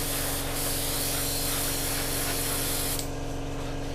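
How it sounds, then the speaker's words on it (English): Airbrush spraying paint onto a tissue to clear the needle and guard, a steady close hiss running unbroken for about three seconds before easing off. "spray it onto the tissue and then just rub the end off like that, and you'll clean the needle"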